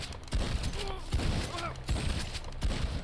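Shotgun fire in the video game Red Dead Online: roughly four heavy blasts, each followed by a short mechanical clack, fired in quick succession with a faint voice in the background.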